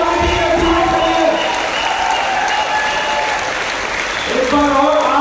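A workshop audience breaks into loud, sustained applause with scattered cheers, the crowd clapping steadily throughout while voices carry over it.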